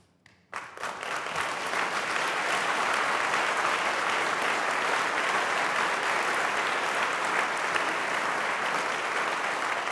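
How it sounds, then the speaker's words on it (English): A large audience at a 2015 University of Washington president's address bursts into applause, a dense sustained wash of clapping that starts abruptly and holds steady for about ten seconds with no talk. "That applause is for us."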